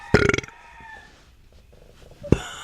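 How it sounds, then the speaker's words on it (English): A person burps loudly once with a rough, pulsing croak, followed by quiet and then a second short burp at the end, with no talk over it. "Burping."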